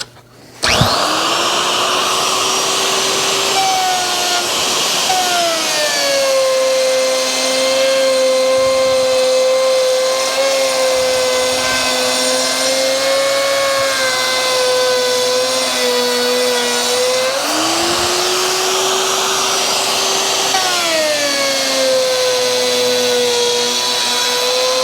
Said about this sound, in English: we're going to run the router around there